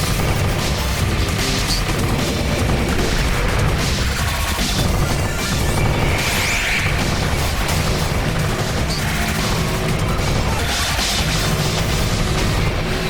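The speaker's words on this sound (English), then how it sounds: "Fresh bomb for those tanky butterflies." Bomb blasts and crashing impacts in the bullet-hell shooter Like Dreamer, layered into a dense, loud, continuous barrage of booms and rapid fire with no pauses and no speech.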